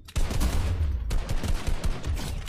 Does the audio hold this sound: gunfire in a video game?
yes